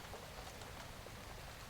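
Steady rain falls in a soft, even hiss with faint scattered drops, quiet and continuous throughout.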